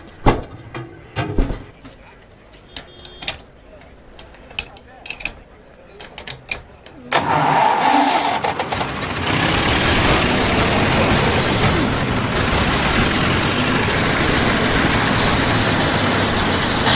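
A car engine turns over after a spark plug fix, bursting into a loud, steady running roar that persists to the end, preceded by clanks and voices.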